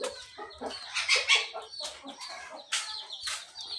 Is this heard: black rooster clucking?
yes